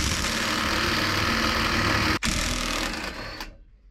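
An air impact gun removing a wheel hub nut on a Mk2 Ford Fiesta, with a loud, close continuous rattling hammer that briefly cuts out, resumes, then winds down and stops.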